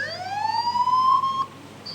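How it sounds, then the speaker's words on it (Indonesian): An ambulance siren rises in one loud, sustained wail, then cuts off sharply. It sounds close and plays alone, with no talk over it. "Ambulan."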